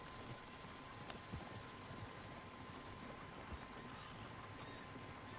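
Horse hooves clip-clop in Red Dead Redemption 2, a faint, steady patter of hoofbeats in the background over a constant low rumble.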